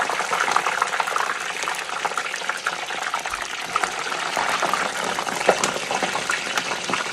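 Chips dropped into very hot grease for St. Patrick's Day fish and chips, bubbling and frying in a loud, dense, continuous roar with crackling spatter throughout, close up.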